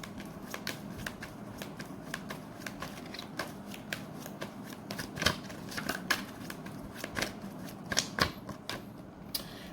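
Close, quiet sequence of tarot cards being shuffled, handled and drawn, with rapid papery flicks and riffles in uneven bursts and no talking.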